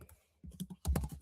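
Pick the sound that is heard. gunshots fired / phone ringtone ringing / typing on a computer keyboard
typing on a computer keyboard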